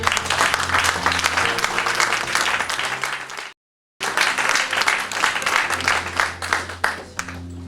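A church congregation applauding the Lord: dense, sustained clapping from a large crowd with some voices mixed in, a brief cut to silence midway, then the applause resumes just as full.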